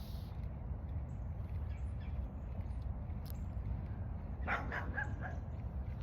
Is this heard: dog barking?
yes